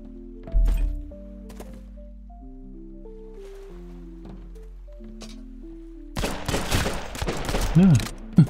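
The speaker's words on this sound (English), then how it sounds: "Come back here and let me shoot you." Gunfire in the survival game Sunkenland comes as a brief blast early on, then a dense, loud burst of rapid shots and impacts near the end, over quiet tonal game ambience.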